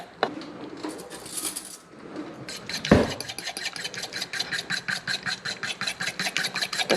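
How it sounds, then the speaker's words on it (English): A fork scrapes and taps against a bowl while mixing mayonnaise for honey bars. A louder clink comes near the middle, followed by a fast, regular rhythm of stirring strokes, close up and with no talk. "Just want to make sure you get all the globs of mayonnaise mixed in as best you can. You could use a whisk or a fork."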